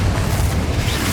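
A Confringo spell explosion in Hogwarts Legacy, a loud, dense, rumbling blast filling the whole moment, close and continuous, with no talking.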